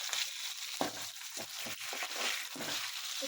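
Chopped onion and garlic sizzle softly in hot oil in a pan for a greens bassaru, with faint crackling and a few scraping stirs.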